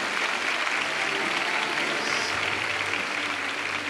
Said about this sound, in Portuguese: Então bata palmas aí.